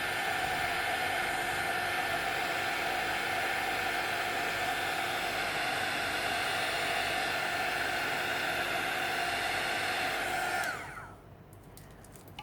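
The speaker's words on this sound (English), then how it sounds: "I will try to use my heat tool." A craft heat tool blows hot air in a continuous loud whooshing hiss with a faint motor whine, running steadily for about ten seconds before switching off and leaving quiet room tone.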